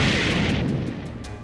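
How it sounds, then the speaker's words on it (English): A massive missile launcher fires a big missile, heard as a loud, close, booming blast that fades into a rumbling whoosh over about a second and a half. "That was a big missile he fired."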